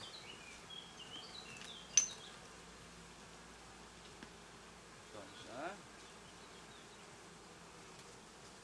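A soft, steady hum of honey bees buzzing in a hive runs quietly throughout, with a few brief clicks and a short spoken word near the start.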